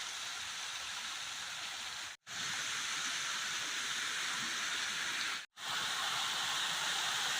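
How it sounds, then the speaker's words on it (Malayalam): Artificial water fountain and waterfalls at Vrindavan Gardens rushing and hissing steadily, a broad continuous splash broken by two brief silent gaps. "ഇവിടെ വ്യത്യസ്ത രീതിയിൽ ഒരുക്കിയിരിക്കുന്ന വാട്ടർ ഫൗണ്ടെയിൻ."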